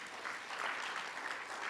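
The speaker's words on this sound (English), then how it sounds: "Let's give them a round of applause." A crowd at an education conference gives sustained applause, an even wash of many hands clapping, fairly distant and soft, continuing without pause.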